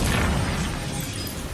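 Glass smashes in the Lego Batman video game: a dense, loud crashing burst that fills the short moment and slowly thins out.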